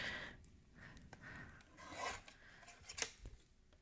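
Paper trimmer slicing a piece of cardstock down to size for a handmade shaker card, giving a few short raspy cutting strokes close to the mic, quiet overall with a sharper snip near the end.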